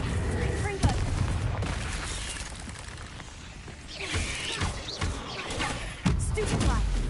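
Spell-casting explosions and impacts in the video game Hogwarts Legacy on PS5, with repeated booming blasts and crackling bursts layered over dense game music and effects, and a couple of sharp loud hits standing out.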